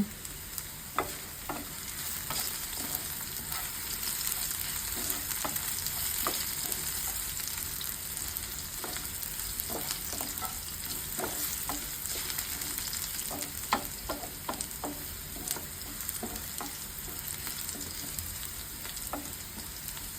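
Sliced onion and whole cumin seeds sizzle and crackle continuously in hot oil, with frequent scraping and clinking from a spatula stirring the pan throughout.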